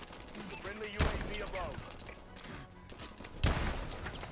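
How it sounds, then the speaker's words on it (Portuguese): Two single pistol shots ring out in the Call of Duty: Advanced Warfare video game, loud sharp reports spaced a couple of seconds apart over game noise and a talking voice. "Essa pistola aqui é muito boa, porém. Ela é aquele negócio, é um tiro de cada vez."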